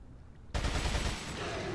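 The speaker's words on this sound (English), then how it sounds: "May as well go fishing with an automatic gun, right?" Automatic gunfire in Resident Evil 4, shooting at fish, bursts in abruptly after a quiet moment and holds as a dense, loud, continuous rattle of rapid shots to the end.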